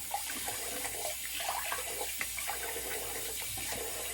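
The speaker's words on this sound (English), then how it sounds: "All right, so cold water rinse." Cold water runs steadily from a tap for a rinse after a shave, a continuous close hiss and splash with no talking.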